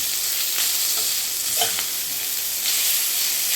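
Vegetable noodles tossed in hot oil in a pan for a fast-food style dish give off a loud, steady hiss with scraping stir strokes, close and continuous, with no talking.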